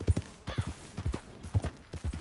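Horse hooves clip-clop at a steady walking pace in the Red Dead Redemption 2 video game, each strike close and distinct, repeating in a regular rhythm with no talk over them.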